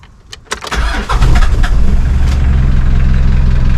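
Mitsubishi 4D56 diesel engine starting after a manual heat start, the starter cranking briefly with a few sharp clicks before the engine catches, then settling into a loud, steady, close idle.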